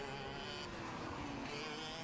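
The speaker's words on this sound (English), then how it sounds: "The track's all clear and they start racing again." Go-karts race at the Port Moresby GoKart Championship, making a dense, steady buzz of small engines that shifts slightly as karts pass. The sound stays continuous and moderately distant, with no speech.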